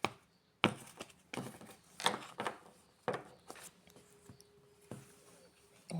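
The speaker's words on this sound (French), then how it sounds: "On va trier les cartes comme ça un peu, voilà. Voilà. On va faire à la coupe." A deck of cards being shuffled and cut by hand on a table, an uneven run of dry taps and slaps with brief gaps between them, close up.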